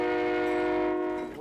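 The Skunk Train, a passenger train running through woods near the coast from Fort Bragg, sounds one long, loud, steady horn blast that holds for over a second before fading.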